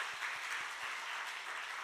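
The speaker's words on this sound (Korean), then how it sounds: "근데 뒤에 청년들도 뒤에 박수 한번 쳐주세요." Church congregation and young adults at a Friday revival prayer service clap together, a dense, steady round of applause from a room full of people, filling the space evenly with no voices on top.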